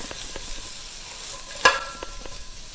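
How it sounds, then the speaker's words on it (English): Soft, steady sizzle of tofu frying in a pan, with a few quiet stirring scrapes and one sharp clack near the middle. "let me check on the tofu that's cooking on, that's sizzling."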